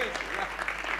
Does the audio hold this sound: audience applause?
yes